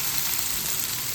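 Chopped onion and tomato frying in a hot pan, a steady, close hiss of sizzling oil with no breaks, no speech over it.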